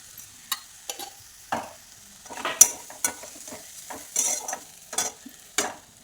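Tomato poha cooking in a pan is stirred with a spoon, making soft irregular scrapes and clinks over a faint sizzle, close and spaced about every half second, with no voices.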